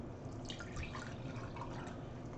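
Water is poured into a container to dilute dye, a soft, steady trickling and splashing with faint dripping that continues throughout, fairly quiet and alone.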